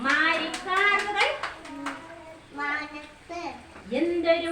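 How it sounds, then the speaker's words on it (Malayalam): Children clap their hands in steady rhythm to a Malayalam rain song, the claps sounding as sharp, evenly spaced pats beneath sung voices that run throughout. "എല്ലാരും കൈയടിച്ചേ, കൈയടിച്ചേ"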